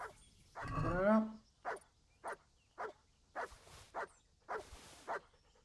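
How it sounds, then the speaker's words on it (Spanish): Dogs barking in the medieval open-world game Kingdom Come: Deliverance: a long growling, whining yelp followed by a regular series of about eight sharp barks, moderately near and loud, with no talk over them. "Escucho ladridos."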